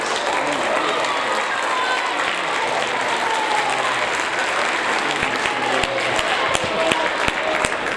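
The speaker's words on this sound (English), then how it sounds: "if we could give these students a round of applause" A school crowd applauds 7th grade students at an awards event, sustained, loud, dense clapping in a room, with a few sharper claps standing out near the end.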